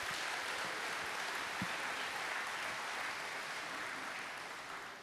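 Audience applause at a game design panel, a soft, distant, even wash of clapping from a crowd that holds steady and fades slightly at the end.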